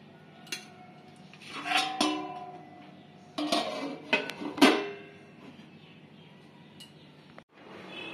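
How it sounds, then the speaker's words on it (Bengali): A lid is lifted off a pan of Bengali banana-flower curry, giving a few sharp metallic clinks and knocks with a short rattle between quieter pauses, close by, with no talking. "ঢাকা খুলে দেখছি হয়েছে কি না"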